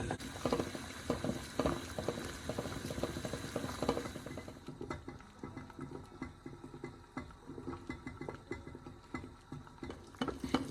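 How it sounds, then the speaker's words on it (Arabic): Low bubbling and rattling of a water bath simmering in a pot on the stove, a steady busy churn with faint ticking knocks, fairly quiet and continuous. "هنا انا اخدته على حمام مائي وهسيبه لمدة 45 دقيقة"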